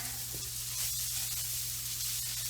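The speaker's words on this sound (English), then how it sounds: "You just stir it around for a second" Frittata ingredients sizzling in a pan as they are stirred, a close, steady bright hiss with faint stirring movement underneath, alone and without talk.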